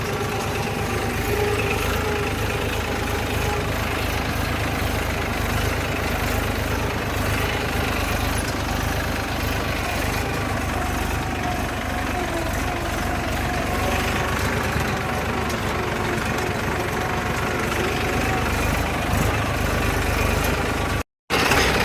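A leveler machine's engine runs steadily and loudly at a heavy, low idle while it works a field with a deep pit, with a constant rumble throughout and a momentary cut near the end.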